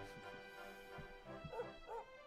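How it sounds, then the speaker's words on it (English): Sandy, a dog in Dragon Quest XI, gives a few short yips and whimpering barks over steady game music, with a pair of brief bright yelps near the end. "Look at that dog."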